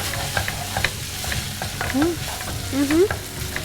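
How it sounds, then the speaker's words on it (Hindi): Stir-frying with honey, sesame oil and peanut butter in a pan, a steady sizzle with scraping stirs and a couple of short squeaky utensil sounds, close and fairly loud, without speech. "सबसे पहले हम इसको हल्का सा स्टिर फ्राई कर लें"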